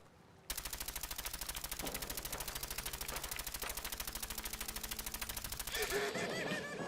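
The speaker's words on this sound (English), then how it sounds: "Who is shooting at me?" Rapid automatic gunfire from Fallout 4 hammers in a fast, even stream after a short quiet start, loud and sustained for several seconds before ending in a burst of other game noise.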